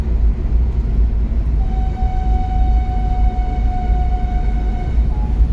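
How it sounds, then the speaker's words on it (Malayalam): A train whistle near Kumbla railway station sounds as one long, steady, fairly faint tone that rises over the loud rumble of a vehicle driving along the NH66 highway, with no talk. "ട്രെയിനിൻ്റെ ചൂളം വിളിയൊക്കെ സൈഡിൽ നിന്ന് കേൾക്കുന്നുണ്ട്."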